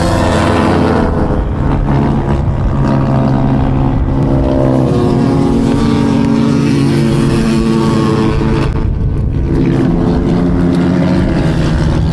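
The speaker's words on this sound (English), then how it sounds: "there it is, the man from Matera on the Harley Davidson 1200 Sportster" Harley-Davidson 1200 Sportster and other open-class motorcycles racing on a beach, a loud continuous engine roar close by with no letup throughout.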